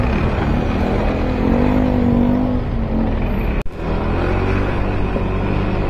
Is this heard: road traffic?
yes